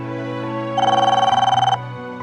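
A telephone rings while a hospital is being called: a single burst of rapid, trilling electronic ringing lasts about a second, loud and close, over soft background music.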